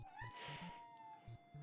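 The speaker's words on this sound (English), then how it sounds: "That's my cat again." A cat meows indoors, a short rising-then-falling call close to the microphone with faint clicking in the background.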